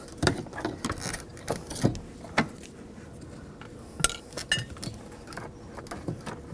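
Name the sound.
prying BMW 328i fuel pump module up with screwdriver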